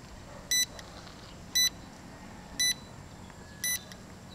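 Four crisp electronic beeps from a drone remote controller, spaced about a second apart, mark the aircraft flying back home, each short tone standing out clearly over low ambient hiss.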